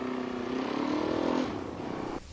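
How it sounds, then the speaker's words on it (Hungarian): A Fantic Caballero 500 Rally, a 500 cc motorcycle, being ridden with its engine note swelling under acceleration and easing off again, near and alone without talk. "Nézzük, mit is tud ez a kis motor."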